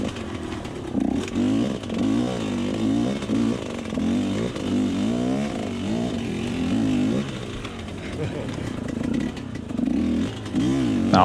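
Enduro motorcycle crawling slowly through swampy mud on a hard enduro trail, its engine close and continuous, with a low throbbing idle that rises and falls in gentle throttle blips.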